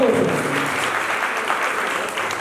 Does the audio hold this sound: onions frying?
no